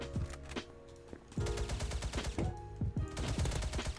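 Rapid gunfire in the first-person shooter Krunker: repeated sharp bursts and quick strings of shots crackle close and loud, with no talking.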